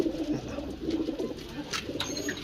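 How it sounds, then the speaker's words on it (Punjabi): Pigeons coo softly on a rooftop loft, low throaty burbling calls repeating in uneven phrases at moderate distance, with faint chirps and light background noise. "ਚੈੱਕ ਕਰੋ ਜ਼ਰਾ ਕੈਸੇ ਕੈਸੇ ਕਬੂਤਰ। ਇਹ ਵੀ ਕਬੂਤਰ ਪਏ ਸਾਰੇ ਮਾਸ਼ਾਅੱਲਾ।"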